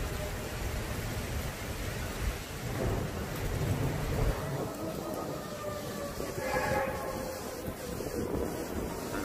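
A derecho storm pours heavy, steady rain, with rolling thunder and gusts of wind buffeting the microphone in a dense, unbroken roar.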